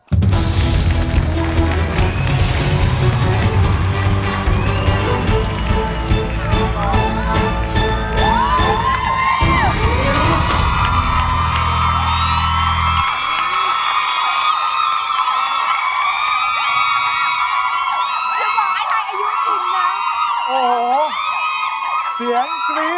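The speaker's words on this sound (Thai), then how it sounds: "เสียงกรี๊ดต้อนรับปรัชนีหมายเลข3" A studio audience at a Thai game show screams and cheers loudly in welcome, with whoops and shrieks rising over music and continuing throughout.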